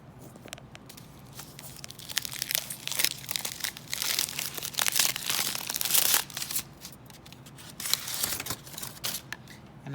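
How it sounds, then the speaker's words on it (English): Aluminum foil is taken off lab apparatus during a photosynthesis experiment: close, continuous crinkling and crumpling with sharp rustling bursts that swell in the middle, with no talking. "then I would take the aluminum foil off of here"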